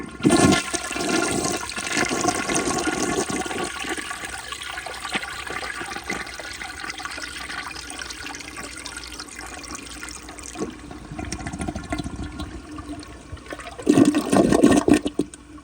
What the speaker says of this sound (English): now, let's do a close-up flush.